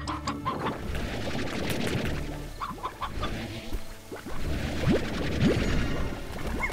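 Hen clucking in the Slime Rancher video game, a run of short clucks and squawks over busy in-game ambience with rising chirpy effects, fairly quiet and with no speech.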